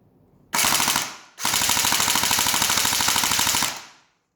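Alpha King 74M gel blaster firing on full auto, a short rapid burst followed by a longer sustained stream of fast, evenly spaced shots, loud and close, with no voices.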